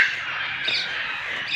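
A caged parrot at a bird breeding farm squawks loudly and harshly at close range. Other birds keep up a busy chatter behind it.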